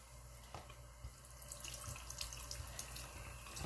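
Tap water runs steadily into a sink while a makeup brush is wetted under the stream, a close, continuous splashing rush with no voices.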